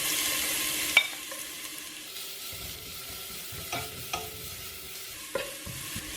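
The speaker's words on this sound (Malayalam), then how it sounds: "ചെറിയ തോതിൽ ക്യാരറ്റ് ഫ്രൈ ആവണം." Grated carrot frying gently in ghee in a pan for egg biryani, a soft steady sizzle broken by a few scattered spoon clinks and scrapes, with no voices.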